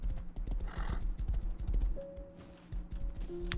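A horse in a farm-building video game gallops with quick rhythmic hoofbeats up close, then gives a short whinny, with faint game ambience around it.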